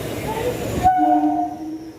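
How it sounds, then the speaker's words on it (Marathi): A rumbling Mumbai local train bound for Churchgate rolls in, then a loud sustained horn blares for about a second, close and dominating the scene. "समोरून येते ट्रेन चर्चगेट वाटतं येते ते तुम्हाला दाखवतो आहे बघा"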